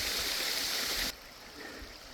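Garden Creek Falls, a 120-foot waterfall and stream at the base of Casper Mountain in Casper, Wyoming, rushing as a steady broadband roar that abruptly drops to a softer, more distant flow halfway through.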